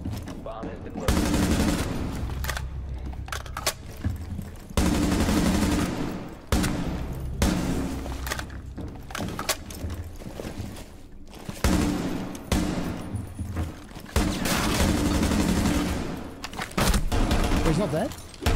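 Bursts of ARX rifle gunfire from a Rainbow Six Siege bomb-mode round, loud repeated volleys in several clusters with short gaps, mixed with game sound and excited talk.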